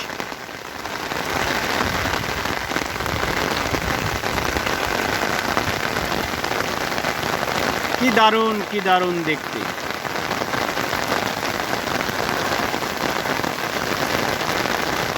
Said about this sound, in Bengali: আল্লাহর অশেষ রহমতে নির্দেশে এই বৃষ্টি হচ্ছে